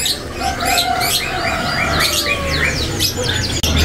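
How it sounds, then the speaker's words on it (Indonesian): An AF canary sings loudly and continuously, close up, with rapid rolling trills and sweeping chirps over faint background noise. "di sini ada burung kenari yang AF gacoran ya"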